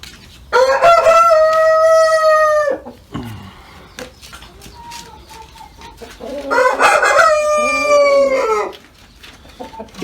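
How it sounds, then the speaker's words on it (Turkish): Brahma chickens cluck and a rooster crows in loud bursts close by on a farm, with quieter clucking between the calls. "Burada 9 tane tavuğumuz var."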